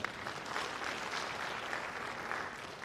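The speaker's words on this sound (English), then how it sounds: "Another round of applause for my minister." Steady applause from a crowd for a government minister at an official event in Sierra Leone fills the room, dense clapping sustained at an even level throughout with no voices over it.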